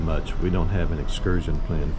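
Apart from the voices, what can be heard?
No distinct noise like a dog, phone or traffic.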